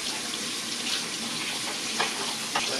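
Tap water runs steadily into a kitchen sink while zucchini is washed, a continuous close hiss with a couple of faint knocks and splashes.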